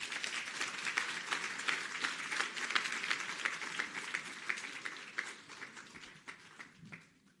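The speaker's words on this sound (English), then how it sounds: "as we welcome Minister Kubayi, a round of applause" An audience of property practitioners and real estate companies applauds to welcome a government minister, steady dense clapping that tapers off into a few scattered claps, heard from a moderate distance and fairly faint.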